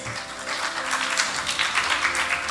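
An audience at a panel event on women and youth gives a round of applause, a thick, steady patter of many hands clapping throughout, fairly loud and even.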